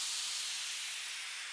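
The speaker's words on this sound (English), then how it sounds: "some white noise downlifters" A white noise downlifter effect for a melodic techno track, a bright airy hiss of noise that sustains and thins slightly as it fades over a second and a half.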